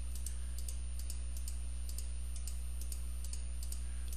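Computer mouse clicking repeatedly in a graphics editor while polygon points are placed, crisp light clicks at an irregular pace over a steady low hum, with no talk.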